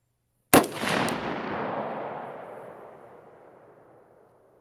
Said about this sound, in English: And shooting again.